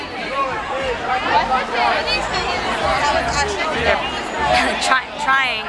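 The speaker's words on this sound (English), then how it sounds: "The bouncers are having a hard time getting rid of a crowd." Outside the Solas bar at SantaCon in the East Village, a dense crowd chatters nonstop on the sidewalk in a loud, overlapping babble, with one voice speaking close over the noise.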